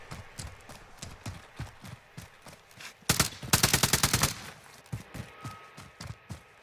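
Gunfire in the battle-royale shooter Call of Duty: Warzone, ending in a headshot: soft, steady clip-clop-like footsteps or taps run throughout, broken midway by one loud shot and then a dense, rapid burst of automatic fire, then the steady tapping returns.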